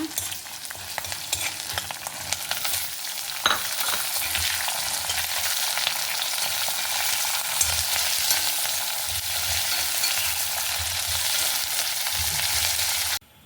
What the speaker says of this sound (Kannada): ನೋಡಿ ಈಗ ಕ್ಯಾಪ್ಸಿಕಮ್ಸ್ ಹಾಕೊಂಬ.